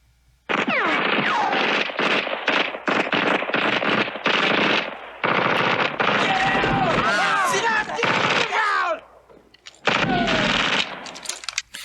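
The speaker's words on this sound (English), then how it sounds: "they are firing down Rambo's direction right into the mine shaft" Rapid machine-gun bursts from the film First Blood, fired into a mine shaft, loud and close in several long volleys separated by short gaps, with shouting voices mixed into the chaos.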